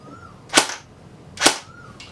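Two sharp, loud shots from a Double Bell Type-56 gel blaster fired semi-automatic, spaced almost a second apart, each a crisp snap with a short tail and quiet between them.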